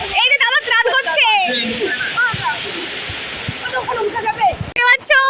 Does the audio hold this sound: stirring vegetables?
no